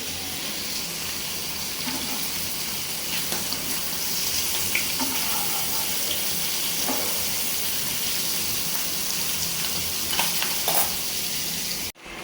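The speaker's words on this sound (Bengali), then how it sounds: "ইলিশ মাছও ভেজে নিচ্ছি।" Hilsa fish fries in a pan with a steady, dense sizzle and crackle that holds evenly throughout, then cuts off abruptly at the very end.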